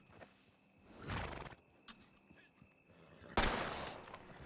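Horse in the Red Dead Redemption 2 video game whinnies and stamps its hooves, a quiet neigh and clip-clopping steps followed by a sudden loud burst near the end, against a faint background.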